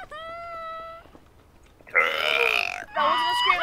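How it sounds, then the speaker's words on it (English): A long, loud, rasping burp from a young man during a game of Garry's Mod, in two throaty bursts up close, preceded by a short voiced tone, with no other talk. "That wasn't a scream, that was a burp."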